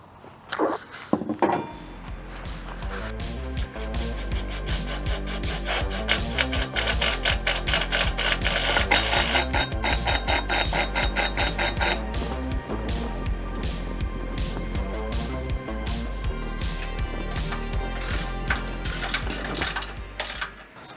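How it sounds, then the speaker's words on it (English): Steady mechanical grinding and rapid ratcheting clatter of a power drill boring bolt holes in old trailer metal, continuous and close for about twenty seconds. "So I'll start to drill in those holes."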